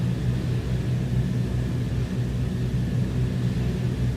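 DC-3 piston engines drone steadily on landing approach in Microsoft Flight Simulator 2020, a low, even rumble with no breaks and no talking.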